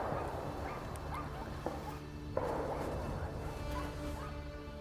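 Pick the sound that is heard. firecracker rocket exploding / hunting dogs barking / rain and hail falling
hunting dogs barking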